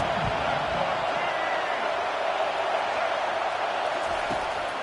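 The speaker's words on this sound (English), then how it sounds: "Listen to this crowd just shaking the girders of this place, trying to help their defense." Stadium crowd roaring in the NCAA 25 college football video game, a steady loud wash of cheering that holds from start to finish, with no talk.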